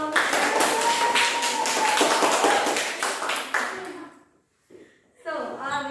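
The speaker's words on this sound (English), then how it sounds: "Please give applause." A school class claps loudly for a few seconds, the applause fading out, followed by a brief voice after a pause.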